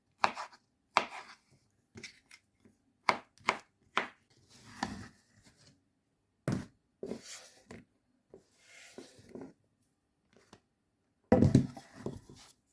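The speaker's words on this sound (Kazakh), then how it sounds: "Сәбізді де осылай 4 бұрышты қып турап аламыз." Carrots are cut into small cubes with a knife, giving irregular knife strikes and scraping on a board. Some strokes are sharp, others are longer brushing sweeps, with gaps between bursts and a louder clatter near the end. Nobody talks.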